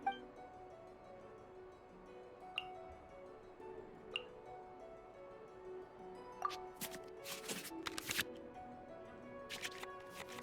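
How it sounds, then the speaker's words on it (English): Digital card-shuffle effects from the Genius Invokation card game in Genshin Impact, as cards return to the draw pile: brief swishing bursts and soft ticks over steady tonal background music, clustering near the end. "we can select any number of cards in our hand to shuffle back into the draw pile, and then draw the same number of new cards"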